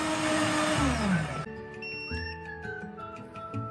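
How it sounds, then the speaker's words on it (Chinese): A kitchen blender whirs loudly as it blends chopped pandan leaves with water. The broad roar lasts about a second and a half, then cuts off, leaving fainter tonal whines and hum. "倒入搅拌器中，加入清水500毫升，"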